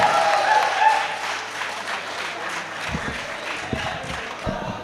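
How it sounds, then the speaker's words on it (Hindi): An audience at a poetry recital greets a woman poet with a strong round of applause, thick clapping that starts full and eases slightly, with a few heavier low thumps near the end. "पुरजोर तालियों में इस्तकबाल करें"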